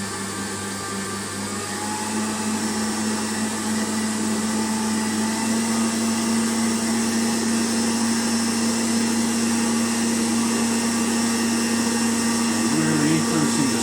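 An electric hand whisk beats a chocolate souffle mixture of egg whites in a bowl, a loud continuous motor whine with a steady pitch that builds slightly in speed throughout.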